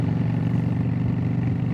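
Yamaha V Star motorcycle engine fitted with Vance & Hines quiet baffles, a steady loud throbbing exhaust rumble while riding, continuous and close with no voices.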